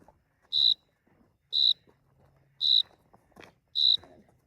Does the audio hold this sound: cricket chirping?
yes